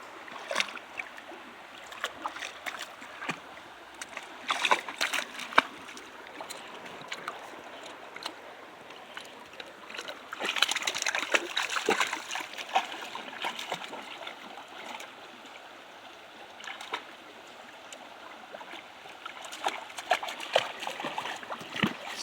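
A brook flows and trickles after heavy flooding, a soft continuous wash of water with brief splashy bursts, fairly quiet and close, no talking.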